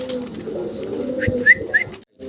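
Pigeons at a pigeon farm, including a pair of barren pigeons, coo in low, steady murmurs with a few brighter calls, close by and moderately loud, ending in a short pause.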